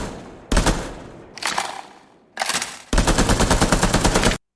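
Bursts of rapid synthetic gunfire from the Area F2 remake video game, three short volleys then a longer sustained automatic stream, loud and punchy with brief gaps between.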